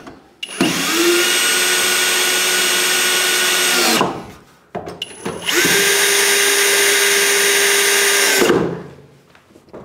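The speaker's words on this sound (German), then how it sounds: "Akkuschrauber." A cordless screwdriver drives screws into a metal drywall profile while a bathroom niche is built, two sustained whirring bursts of about three and a half seconds each, close and loud, with a short pause between.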